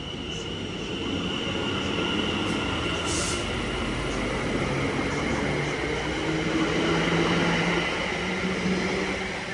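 A Class 710 electric train pulls out of Harringay Green Lanes station, a steady rolling rumble with rising motor whine and faint wheel squeal, fairly distant and continuous throughout.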